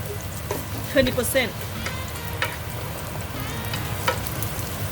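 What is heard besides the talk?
garlic frying in a pan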